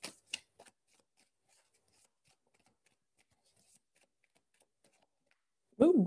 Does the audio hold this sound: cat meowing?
no